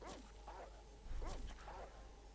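Barking from the dog companion Dogmeat in the Fallout 1 video game: four arched, yelping barks in two pairs, moderately loud over a steady low game hum.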